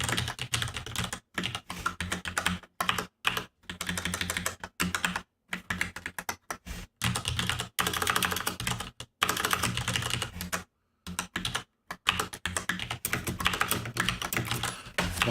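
Fingers tap quickly on a tiny computer keyboard in uneven bursts of rapid keystrokes, broken by short pauses, close and dry with no talking.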